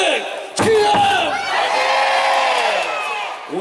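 A large baseball crowd of Kiwoom Heroes fans at a stadium roars a loud unison chant of the team name and "fighting", a swelling, sustained mass of voices with a sharp accented start.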